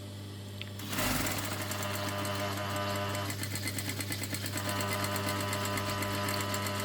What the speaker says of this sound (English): This one should sew through anything.